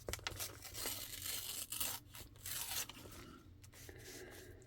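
Journal paper tears in raggedy rips, a run of close, rasping, crinkly tearing and rubbing sounds, continuous and fairly quiet with short pauses.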